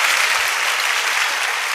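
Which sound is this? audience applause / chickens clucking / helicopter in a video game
audience applause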